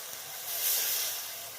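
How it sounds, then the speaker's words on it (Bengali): Water poured into a hot pan to boil potatoes for a village banana blossom and shrimp curry hisses in a brief sizzle that swells and then settles. "শুধু আলুটা সিদ্ধ করার জন্য একটু জল দিয়ে দিতে হবে, তার জন্য আমি একটু জল দিয়ে দিচ্ছি।"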